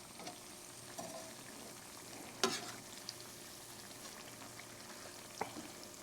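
Cornmeal-and-water batter for cowboy corn fritters fries in a pan, a faint steady sizzle with a few small pops and clicks, no talking.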